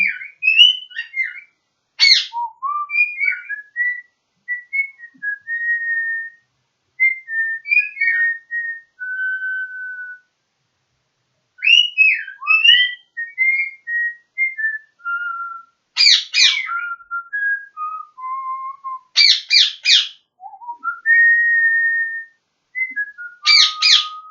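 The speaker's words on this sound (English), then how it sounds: "I'm trying to whistle. I'm probably out of tune." A person whistles a tune from a song, a solo melody of sliding notes and short phrases with brief pauses between, clear and close with no other sound.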